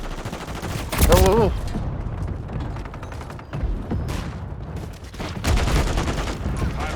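Gunfire in Call of Duty: Modern Warfare 3 crackles in bursts through much of the clip, heaviest near the start and again toward the end, with a player's short exclamation over it.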